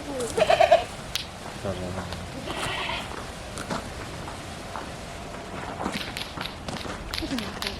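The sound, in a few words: goats bleating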